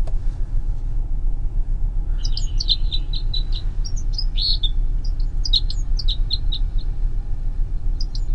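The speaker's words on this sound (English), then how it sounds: "That was the red crossbill." Recorded red crossbill calls play as a series of sharp, high chirps and short notes in scattered bursts over a steady low rumble.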